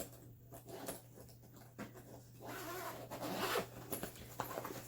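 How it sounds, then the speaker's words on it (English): Zipper on an eBags TLS Mother Lode Weekender backpack being drawn all the way around its expansion section, a steady close ripping zip lasting several seconds, growing louder toward the end, with no talk. "So you zip it all the way around."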